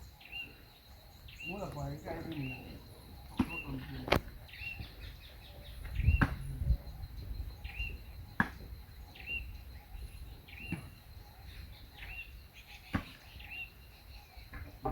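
Repeated bird chirps and a constant high insect buzz fill an outdoor roadside scene in The Gambia, with brief muffled talk early on and occasional sharp clicks.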